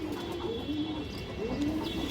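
Indian high-flyer Kaldom pigeons give two soft, low cooing phrases close by, over a steady background hum.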